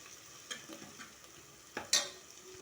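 Mutton pieces frying in oil for a festival offering, a low, faint sizzle broken by a few scraping stirs of a spoon, the louder ones coming near the end.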